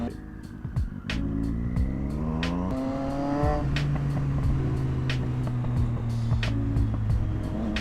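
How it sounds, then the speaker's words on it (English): A European motorbike idling and blipping nearby, its exhaust crackling with sharp popping and banging bursts scattered across a steady engine rumble, with a brief revving flurry near the start. "should I be concerned with how much that's popping and banging?"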